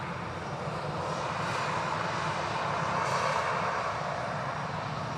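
An Airbus A320neo jet takes off at Manchester Airport, a steady broadband engine roar that holds constant and fairly loud throughout with no voices.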